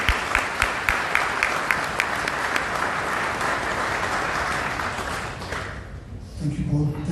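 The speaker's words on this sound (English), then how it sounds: "please put your hands together" Audience applause at a company gala dinner, a sustained wash of many hands clapping at moderate volume, fading out toward the end as a voice starts to speak.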